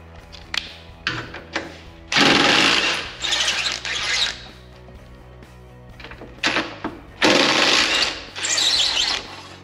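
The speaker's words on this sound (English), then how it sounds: "you saw it was quite a bit easier with the impact" An impact wrench works loose rusty exhaust bolts on a McLaren 570S. Several loud, close, rattling bursts of a second or two each stand out from quieter clanking and handling of tools between them.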